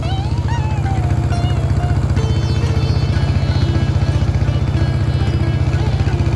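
A trawler boat engine chugs loudly and steadily on the Jamuna river near the bridge, a fast even diesel thump dominating throughout while people talk over it.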